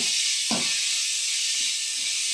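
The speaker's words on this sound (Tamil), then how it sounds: "தக்காளி ஆட் பண்ணி நல்லா வதக்கலாம்." Tomatoes sautéing in a hot pan for chapathi noodles give a steady, loud sizzle and hiss throughout, with a brief clatter near the start as they go in.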